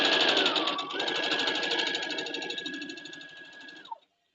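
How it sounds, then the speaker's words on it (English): Sewing machine runs a quarter-inch seam along batik fabric strips, a fast steady whirring stitch close up that slows and stops abruptly after about four seconds. "I'm just going to take a 1/4 inch and sew a 1/4 inch right down the side"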